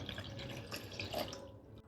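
Water, 400 ml, is poured into a blender holding two seeded tomatoes in a home kitchen, giving a soft, continuous splashing and trickling that fades out near the end.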